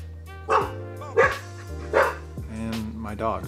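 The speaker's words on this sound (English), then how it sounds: "And my dogs." Dogs in a home woodcarving workshop bark in sharp, separate bursts, four barks spaced about a second apart over a steady low hum, fairly close and loud.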